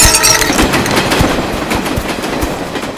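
A train passes close by, loud and continuous, its wheels beating a rhythmic clickety-clack over the rails amid a dense rumbling roar, no voices.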